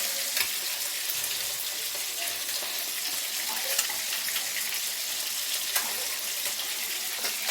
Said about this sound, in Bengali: মাছ ভাজতে শুরু করেছি